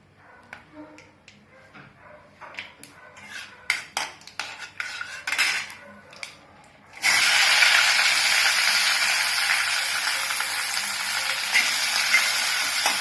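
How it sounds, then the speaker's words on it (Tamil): A few metal clinks of a utensil against a pan, then a loud, steady sizzle as cinnamon and cloves hit hot oil and keep frying. "இப்போ எண்ணெய் காய்ச்சோன்னா பட்டை, கிராம்பு போட்டுட்டு"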